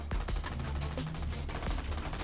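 Gunfire in Borderlands 3 while clearing an enemy camp, a rapid burst of repeated shots over a low rumbling background, steady and moderately loud for the whole stretch.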